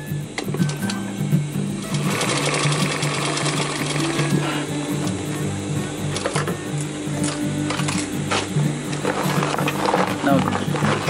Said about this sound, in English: Now sew back to the starting point.